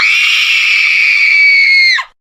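A voice imitates a sneeze as a loud, sustained shrill scream, steady for about two seconds before dropping sharply and cutting off.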